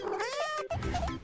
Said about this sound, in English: Who's this? A sweet kitten.